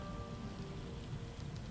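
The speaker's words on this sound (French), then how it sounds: "Ah, il pleut." Steady rain shower in The Elder Scrolls Online, a soft continuous broadband hiss of falling rain at even, low level throughout, with no voices.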